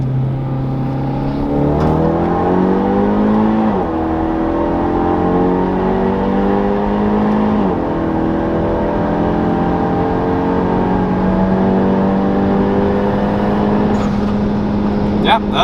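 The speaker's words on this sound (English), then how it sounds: "And you're going like full throttle, like here, I'll do a pull here." Hyundai Veloster with manual transmission pulling at full throttle, engine note climbing steadily through quick gear shifts, loud and close from inside the car, with voices occasionally audible under it.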